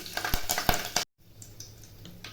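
Curry leaves frying in a pot on a gas stove for a village-style spicy mutton curry, sharp crackling pops over a sizzle, then a sudden cut to a quieter, softer sizzle.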